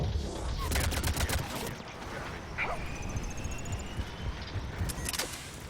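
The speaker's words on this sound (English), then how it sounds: "they're shooting at me" Gunfire in the video game Mass Effect 3, a dense spray of rapid shots and impacts over a steady game soundscape, with a brief whooshing tone partway through and no talk.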